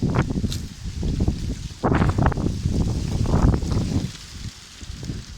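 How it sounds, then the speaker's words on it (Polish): Gusty wind rumbles against the microphone with a rustling texture through horse chestnut tree leaves, rising and falling in waves over a few seconds. "dobrze, że wieje wiatr, bo jak te liście rozpędza"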